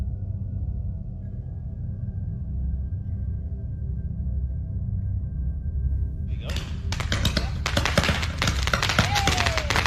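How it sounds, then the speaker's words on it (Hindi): A steady background rumble, then a rapid crackling volley of sharp bangs erupts and keeps going, loud and dense like fireworks going off nearby. "यदि आतिशबाजी को सही ढंग से नहीं संभाला गया तो वे कितनी गलत हो सकती हैं।"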